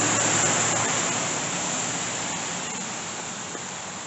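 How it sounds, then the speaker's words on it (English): Steady rain pours down outdoors in a dense, even hiss that fades very slightly over the few seconds, with no voices heard. "You can hear the rain."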